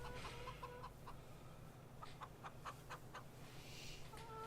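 Chickens cluck in short bursts in a Farming Simulator 22 farmyard, with a few quick repeated clucks near the start and a busier cluster of calls later over steady ambient farm background noise.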